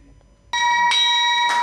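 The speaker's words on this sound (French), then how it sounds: "Cette cloche annonce les résultats de la première cotation de l'emprunt obligataire Trésor public de Côte d'Ivoire" A bell rings at the BRVM regional stock exchange in Côte d'Ivoire to announce the first trading results of a public treasury bond. After a short quiet lead-in, it sounds a steady, sustained metallic tone that swells a little louder partway through.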